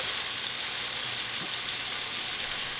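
Saffron-marinated shrimp sizzle in a pan, a steady, even hiss of frying that carries on without a break and stays fairly soft.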